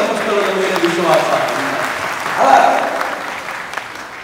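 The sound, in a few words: audience applause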